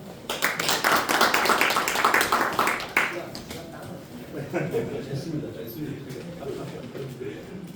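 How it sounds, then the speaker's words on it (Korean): An outdoor crowd at a bus workers' union election rally in Gangwon applauds a candidate. The loud, dense clapping lasts about three seconds, then drops to a low murmur of voices and scattered noise. "그 유세를 해주신 그 후보님께 다시 한번 큰 박수 좀 부탁드리겠습니다"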